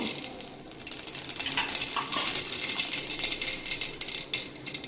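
Mustard seeds spluttering in hot oil in a kadai, a steady crackling sizzle with sharp pops and occasional scraping of a utensil, close and continuous, with no talk.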